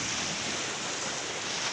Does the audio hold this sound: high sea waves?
yes